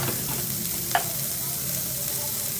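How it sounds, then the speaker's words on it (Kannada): Chopped ivy gourd (tondekai) frying in a pan while being stirred, giving a steady broadband sizzle with one sharp utensil scrape near the middle, close and moderately loud, with no voices. "ಅದಕ್ಕೆ ಕಟ್ ಮಾಡಿದ್ವಲ್ಲ ತೊಂಡೆಕಾಯಿ ಉದ್ದ ಅದನ್ನು ಹಾಕ್ಕೊಂಡು ಫ್ರೈ ಮಾಡ್ಕೋತಾ ಇದ್ದೀನಿ."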